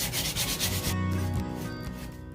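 Steady rubbing of 180-grit sandpaper on a Mora knife being reshaped into a bushcraft knife, a continuous close scratchy sanding with a rhythmic back-and-forth texture, no voices.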